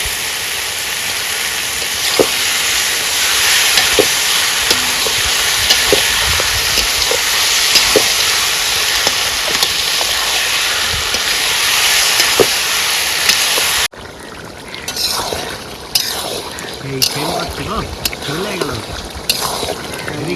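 Goose meat sizzling and frying in hot oil outdoors by a riverbank, a steady loud crackle for most of the clip that drops abruptly to quieter stirring and scraping near the end.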